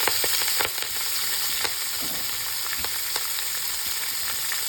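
Aromatics frying in olive oil in a pan for a pork shoulder roast, a steady close sizzle with occasional stirring clicks and crackles, no voices.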